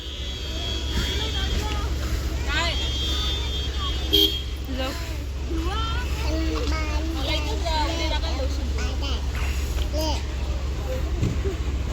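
Road traffic on a trip to Matheran, with steady engine rumble and several car horn toots rising over it while children and adults chatter nearby.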